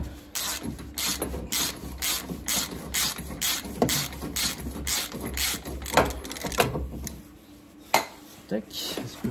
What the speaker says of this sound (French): j'ai plus qu'à desserrer avec le cliquet